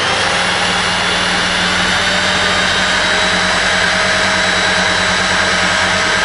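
A G414 alternator being converted for 12 V is driven at rising revs on a test setup, giving a loud, steady, high mechanical whine and roar that fills the whole stretch without talking.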